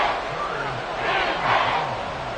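A Seahawks stadium crowd roars as the opposing offense faces third down in the red zone: a loud, dense, sustained wall of voices that swells in the middle.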